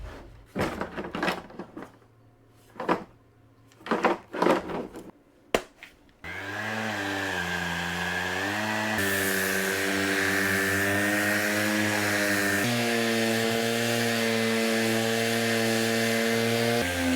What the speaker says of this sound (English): I bought it yesterday, 150 millimeter random orbital sander, and we're gonna check out, see how this one works